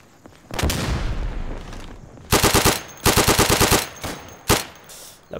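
Loud, close bursts of automatic gunfire from a WW2 weapon in the shooter game Day of Infamy: one long sustained burst, then several shorter rapid strings separated by brief pauses, with a final quick burst at the end.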